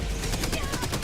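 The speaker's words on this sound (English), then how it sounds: "Gatling barrage wrecking him" A Gatling gun barrage in a video game fires a rapid stream of closely spaced shots, a loud, dense burst of gunfire without pause.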